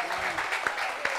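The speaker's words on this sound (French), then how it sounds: "Applaudissements pour ça" Applause from an audience at a community gathering in Réunion, a short burst of dense clapping filling the whole moment, with voices mixed in beneath it.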